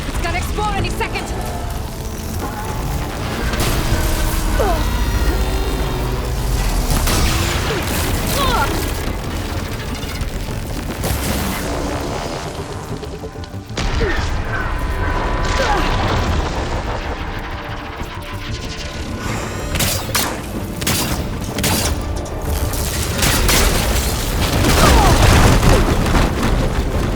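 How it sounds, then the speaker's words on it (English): An explosion caused by plasma in Horizon Forbidden West, with heavy booming blasts and crashing impacts. They rumble loudly and continuously with a brief dip midway, under game music and effects, and a voice speaks over them. "You got plasma on me. It's gonna explode any second."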